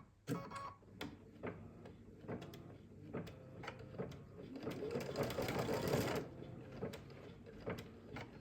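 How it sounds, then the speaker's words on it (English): A Kimberbell embroidery machine stitches placement lines for the top of a lip balm holder, a close, steady mechanical whir with rapid needle ticking and a few sharper clicks along the way. "Next is stitching the placement lines."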